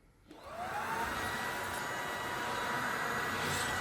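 A Shark ICZ300UKT anti-hair-wrap cordless upright vacuum cleaner fitted with a dusting brush switches on after a brief pause and settles into a steady, loud, close motor whine with airy suction hiss.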